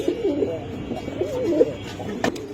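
Pigeons at a pigeon farm coo in soft, repeated throaty bursts close by, with a sharp clack near the end and a busy background hum.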